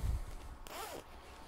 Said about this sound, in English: you can unzip that all the way to the bottom